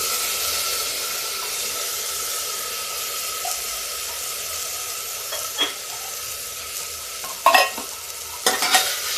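Masoor and mung dal with broken wheat roasting dry in a pan, a soft steady hiss with a few sharp utensil scrapes and knocks near the end.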